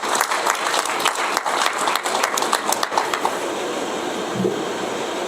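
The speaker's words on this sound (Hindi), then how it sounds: "हम आपस में एक दो को ताली बजा के स्वागत करें" Audience at a national jurists' conference in Rewa clapping in welcome, a dense burst of many hands filling the room before thinning out and fading toward the end.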